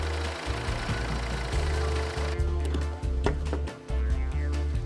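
Volvo V90 engine idling with a low, steady hum, with faint clicks and knocks nearby as the transmission oil drains from the open level plug.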